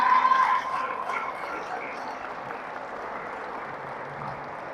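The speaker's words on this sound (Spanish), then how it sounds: "Vamos a darle un fuerte aplauso a Don David" Applause for a long-sober elder at an Alcoholics Anonymous meeting, a dense crowd clapping that is loudest at the start and then settles into a steady, slightly fading patter.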